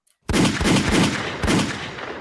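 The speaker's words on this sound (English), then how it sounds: "Can I get 4 gunshots?" A rapid burst of four loud gunshot sound effects, close and sharp, fired in quick succession after a moment of silence, each blast trailing into a reverberant tail, with no talking.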